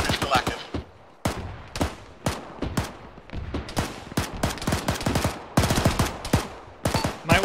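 Machine gun fire in the military shooter ArmA, rapid bursts of sharp close shots in quick clusters with brief pauses between them, loud and crackling throughout.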